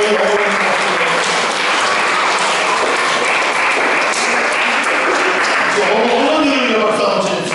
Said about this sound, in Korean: 우리 아내를 위해서 일어나 박수 한번 쳐보십시다.